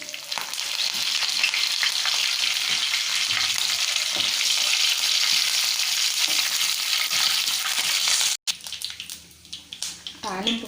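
Tempering for an egg fry: curry leaves, cumin, mustard seeds and chana dal crackling in hot oil, a loud dense continuous sizzle close up that cuts off abruptly near the end.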